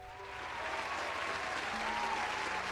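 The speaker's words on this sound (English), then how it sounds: "give a round of applause to the return of Leith and Little Sam" Continuous applause from a crowd, dense and even, with faint tones beneath the clapping.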